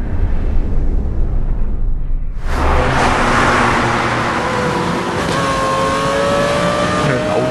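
Race cars in Need for Speed Most Wanted: a quiet engine hum breaks into a sudden loud roar of accelerating cars, with engines revving high and whining on as they speed along.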